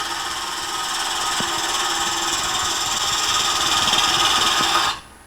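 Wood lathe spinning steadily while a turning gouge cuts a two-part wooden vase with the bevel rubbing, giving a continuous humming scrape with faint ticks, ending abruptly as the cut stops.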